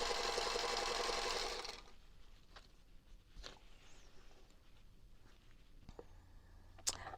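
A sewing machine stitches quilt block units, a dense steady whir for the first couple of seconds before stopping, followed by quiet handling clicks and light taps.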